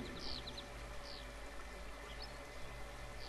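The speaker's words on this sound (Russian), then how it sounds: "И слышите ручей." Soft, steady rushing of flowing stream water, quiet and constant, with a few faint bird chirps above it.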